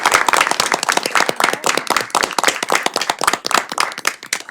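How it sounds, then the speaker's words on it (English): Loud, close applause from attendees at a state board of education meeting: a brisk, uneven patter of many hands clapping, continuous for several seconds with no voices over it. "So let's give them a round of applause."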